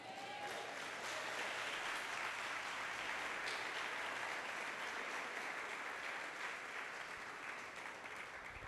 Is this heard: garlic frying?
no